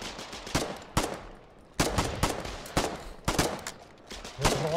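Machine gun suppressing fire in the Foxhole war video game rattles out in repeated loud bursts with short gaps between them, each burst made of rapid, sharp cracks.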